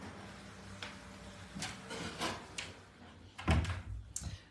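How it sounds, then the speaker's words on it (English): A door is shut indoors with a few soft clunks and a firmer thump near the end, heard faintly against room hiss. "I'm just going to close this door."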